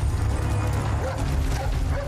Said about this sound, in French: Hey, c'est le chien.